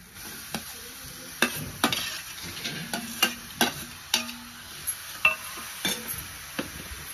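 Grated ridge gourd stirred in a hot pan, with repeated sharp spatula clinks and scrapes against the metal over a low sizzle, close up and irregular, no voices.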